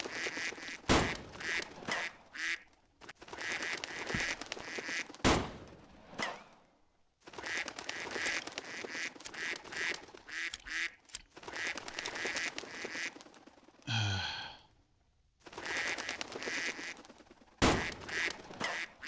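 Duck quacks and shotgun blasts from the Mindshot iOS hunting game, with repeated loud bursts of gunfire and quacking in sections separated by brief pauses.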